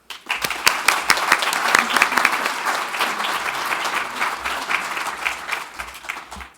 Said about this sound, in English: Please join me for one more round of applause to congratulate Amy